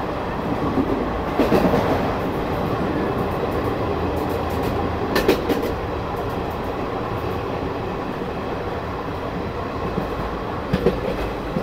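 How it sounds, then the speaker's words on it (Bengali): A passenger train runs through Gadadharpur station without stopping on the Tarapith to Kolkata line, heard from on board as a steady, loud rolling rumble with rhythmic clickety-clack wheel beats and occasional sharper clanks. "আমাদের ট্রেন কিন্তু এখন ডিপার্চার করছে গদাধরপুর স্টেশন।"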